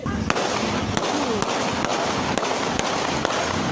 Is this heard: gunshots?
yes